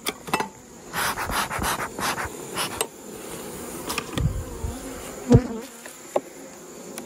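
Honey bees buzz close by in bursts and drones during hive feeding, swelling and fading as they fly near, with occasional rubbing and tapping sounds mixed in.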